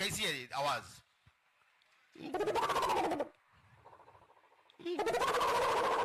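A performer on stage imitates an owl call with his voice, delivering two long hooting bursts separated by a pause, after a short spoken question.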